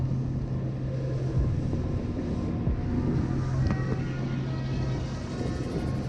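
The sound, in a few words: 34 ft fishing boat's twin engines running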